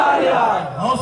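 A large crowd at a religious gathering in Lahore shouts a slogan back in unison, a loud massed roar of voices lasting about a second.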